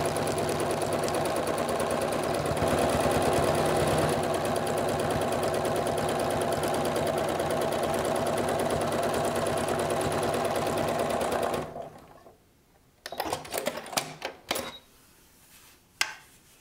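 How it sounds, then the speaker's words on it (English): A sewing machine runs steadily for about twelve seconds, free-motion quilting a small seascape postcard, then stops, leaving a few short bursts of stitching and handling noise. "Going to fill in the rest of the piece with free motion quilting."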